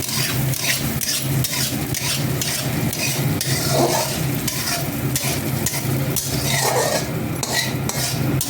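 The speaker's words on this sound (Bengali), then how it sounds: "এখন ভালো করে মশলাটাকে কষিয়ে নেব।" Mustard paste ground with onion and green chili being fried and stirred in oil in a pan, with a continuous sizzle and repeated scraping strokes of a spoon, close and steady throughout.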